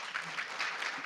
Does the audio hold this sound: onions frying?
no